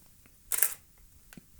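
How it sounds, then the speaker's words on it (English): Shutter of a 2008 Canon 5D Mark II full-frame DSLR fires once, a short crisp mechanical clack, followed by a fainter click, in an otherwise quiet room. "That's the sound of the full frame shutter on the Canon 5D Mark II."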